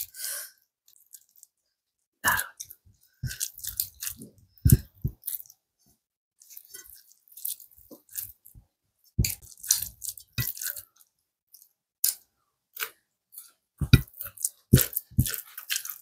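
Close, wet chewing and squishing sounds of a meal of rice with mustard fish curry and aloo posto come in irregular bursts, with quiet gaps and soft mouth noises between bites.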